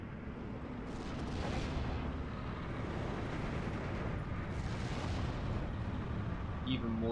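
Heavy bomb loads from PE-2 bombers burst in Steel Division 2 as a continuous, dense rumble of explosions and distant artillery-like booms, with no clear separate blasts.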